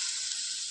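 Chicken cutlets sizzle on an oiled dosa griddle over a stove on slow flame, a close, steady bright hiss of frying with no pauses or voices.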